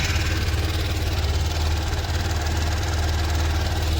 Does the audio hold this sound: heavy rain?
no